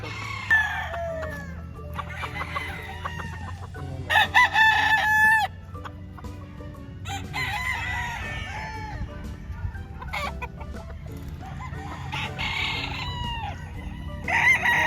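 Gray and white Kelso gamefowl roosters at a farm in Lipa, Batangas, crowing repeatedly, several birds calling in turn, some close and loud, others farther off, with clucking and a low steady background hum.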